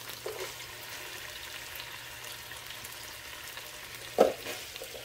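Vegetables frying in a pan for a Thai chicken dish, with a soft, steady sizzle throughout, one sharper clatter or stir near the end, and no talking.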